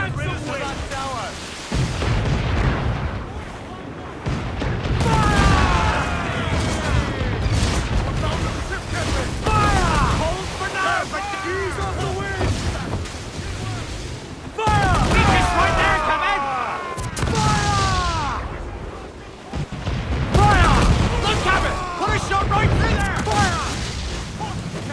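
Ship cannons boom in repeated heavy blasts during a naval battle in Assassin's Creed Black Flag, mixed with crashing impacts and dense with shouting crew voices and music.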